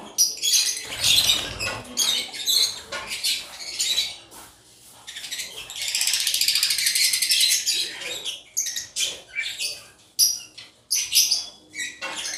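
Caged African lovebirds chirp and squawk in rapid, close bursts, with rustling wing flaps and scuffling in between, busy and uneven throughout with no talk.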